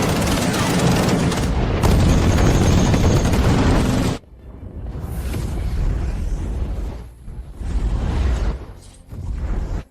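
Animated air defense guns open up in a heavy, continuous barrage of loud booming fire, then break into shorter rattling bursts separated by brief pauses, dense and close throughout.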